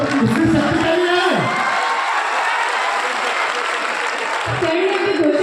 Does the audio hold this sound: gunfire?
no